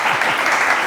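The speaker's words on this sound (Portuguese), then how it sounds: "queria pedir mais um aplauso aqui para o Vitor" Audience applause for the speaker Vitor at a business talk on AI in today's market, a dense steady wash of clapping filling the brief moment, loud and continuous throughout.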